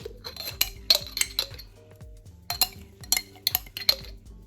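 Metal spoon clinking repeatedly against a bowl while mustard is stirred into liver sauce, bright close taps in irregular bursts with short pauses, no talking.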